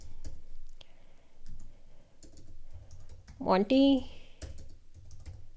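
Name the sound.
typing on a computer keyboard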